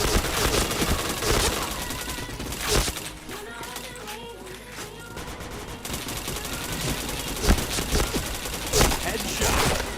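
Video game gunfire in rapid bursts, loud and close, easing briefly in the middle before the shots pick up again, with some faint talk mixed in.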